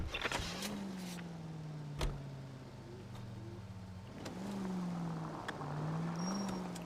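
A car driven in the 1940s Los Angeles crime game LA Noire, its engine humming steadily with the pitch rising and falling as it accelerates and eases off, joined by a couple of sharp knocks.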